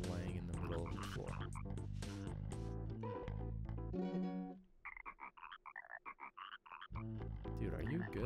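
A frog croaking in the Chibi-Robo video game, a series of short warbling croaks in the middle of the stretch, with game music and sounds before and after.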